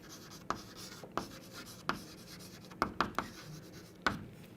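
Chalk or marker taps and scratches on a board as terms are written during a chemistry lesson, with several sharp strokes at irregular intervals over a quiet room background.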